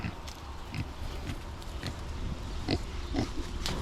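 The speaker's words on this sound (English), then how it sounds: "These are racing pigs." Racing pigs grunt and snuffle at close range in a rural farm setting, giving short irregular oinks and rooting noises over a steady low background, with no talking.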